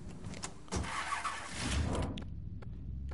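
A car engine in the Mafia 3 video game, heard starting and settling into a low idle, fairly quiet, with a few short clicks and thumps toward the end.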